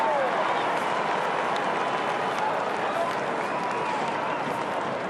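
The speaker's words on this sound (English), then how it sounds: "much to the delight of the crowd." A large stadium crowd at a 2012 AFL match between Essendon and West Coast roars after a West Coast Eagles goal, a dense, steady wash of cheering that does not let up.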